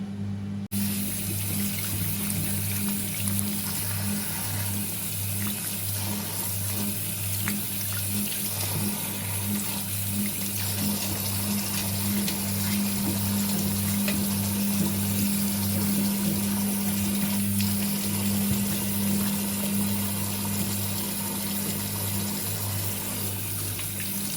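Warm water runs steadily from a tap into a sink while makeup brushes are washed, a continuous close rush over a low, steady hum that never pauses.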